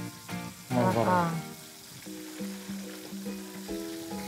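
Sambal roa chili paste sizzles and crackles in a hot pan, with a louder burst early on, then a quieter bubbling fry.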